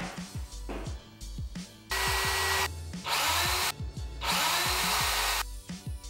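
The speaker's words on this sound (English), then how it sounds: "I have my drill bit of choice, and I'm just going to start drilling." A power drill whines in several long, loud bursts, with short gaps and clicks between runs as it bores holes for a Volkswagen Golf MK5 R32 front splitter.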